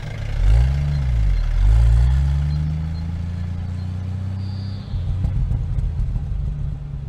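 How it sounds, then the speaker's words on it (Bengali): Jeep engine sound effect for a rural Bengal story: a deep, low rumbling motor revs and pulls away, its steady drone continuing alone with a rougher surge near the end. "ঘর ঘর শব্দে জিপ রওনা দেয় স্বাস্থ্যকেন্দ্রের উদ্দেশ্যে।"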